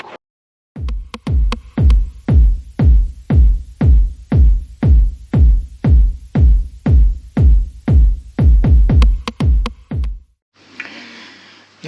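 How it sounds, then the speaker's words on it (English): An RC helicopter canopy is dry sanded by hand in about twenty loud, close, evenly spaced rasping strokes, which quicken slightly near the end and then stop, leaving a short, softer rustle. "now I can give it a dry sand"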